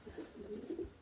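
Soft, low cooing from a young pigeon just back from ranging, a few murmured coos close by but faint, with no talk over them.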